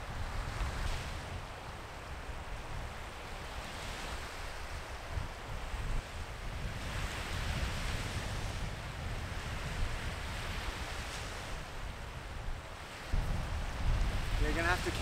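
Ocean waves wash steadily onto an island beach as the tide comes in, a broad rushing surf with wind buffeting the microphone, moderately loud throughout.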